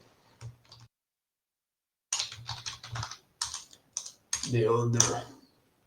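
A computer keyboard clatters in short bursts of close typing and clicks while code is written in GNOME Builder, broken by pauses, with a voice briefly heard near the end.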